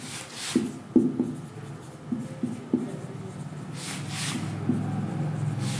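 Pen strokes across paper as a physics question is written out by hand during a lecture, close scratching with a few sharp taps and pauses between strokes. A voice speaks faintly in the background.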